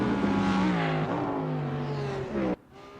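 Race cars in the ESL R1 sim racing game at Road Atlanta, including an Audi R8 and a Mercedes, roar steadily as engines rev and shift, then the sound cuts off abruptly near the end.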